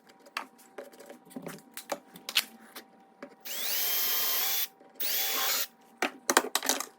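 A Forstner bit drills through a scrap wood jig for cabinet hinges, two loud sustained bursts of drilling about a second each, surrounded by knocks and handling clatter of the wood and tool.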